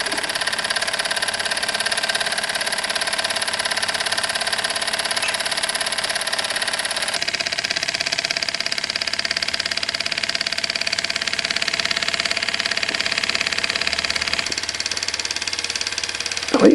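An old British Cyldon 13 model live steam engine, aluminium-bodied and fired by a small all-purpose burner, runs steadily with a fast, even mechanical chatter and a continuous hiss, loud and close throughout.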